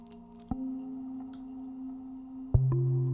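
Sustained synthesizer tones from the Harmony Bloom preset, set with longer note durations and reverb, change pitch in a slow sequence, with sharp note onsets and tones that hang and ring clearly with no voices.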